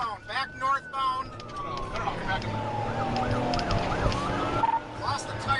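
A police car siren wails and yelps in rising and falling sweeps during a chase, loud at first then continuing under engine and road noise, with people talking over it.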